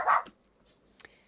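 A dog gives one sharp close bark followed by a few softer, higher yips and whimpers, alone with no talking.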